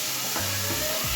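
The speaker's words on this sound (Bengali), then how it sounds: "পনিরটাকে লাল করে ভেজে নেব।" Chopped paneer with a little salt and turmeric sizzles in a kadai, a steady broadband frying hiss with a low hum underneath, continuous and close throughout.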